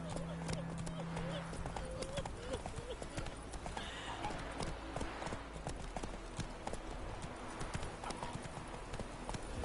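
In The Witcher 3, a horse gallops with steady, rhythmic clip-clop hoofbeats under game ambience and a low background drone, heard continuously and fairly close throughout.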